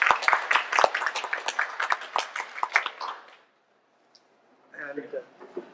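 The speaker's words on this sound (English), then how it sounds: "I'd like to give an applause to" Audience applause breaks out at the close of an academic talk on computational imaging with single-photon detectors, a dense burst of many hands clapping for about three seconds, then fading to near silence before a voice speaks.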